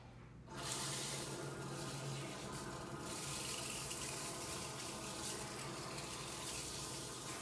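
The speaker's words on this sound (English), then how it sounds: "So I'm going to start by wetting her hair down." Tap water runs steadily into a sink as a woman's hair is wetted before shampooing, a continuous close splashing rush that starts after a brief pause and carries on alone.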